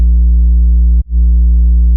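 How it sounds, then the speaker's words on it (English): A deep, pure sub-bass synth tone made in FL Studio hums steadily and loudly, then drops out for a brief moment at the midpoint before swelling back in. No voices are heard. "A sub-bass sample to give more low end for the bass fills"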